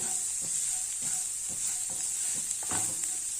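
Grated carrot tossed into a hot pan for carrot rice, a constant bright sizzle with rhythmic scraping strokes of a spoon roughly every half second as it is mixed, close and alone without talk.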